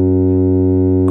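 A Cherry Audio synthesizer plugin holds one loud, steady, harmonically rich tone with an echo effect for about a second before it breaks off abruptly.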